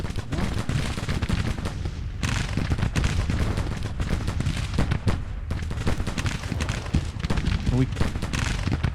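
Dense, continuous volleys of musket and cannon fire crackle through a Civil War battle in Grand Tactician: The Civil War, loud and steady throughout.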